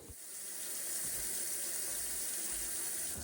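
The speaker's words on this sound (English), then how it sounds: "Let me speed things up here as we fill the sink with cold water." Cold water runs steadily from a kitchen tap into a sink, a continuous hissing, splashing flow that stays even throughout, close and moderately loud, with no voices.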